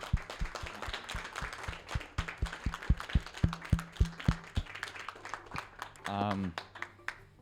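An audience claps at a conference finale, a steady run of sharp, fairly close hand claps in an even rhythm that thins out toward the end, with a brief voice breaking in just after the clapping stops.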